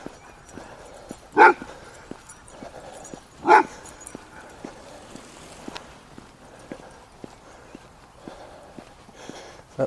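A dog behind a chain link fence lets out two loud, sharp barks a couple of seconds apart, with steady walking footsteps ticking along quietly underneath throughout.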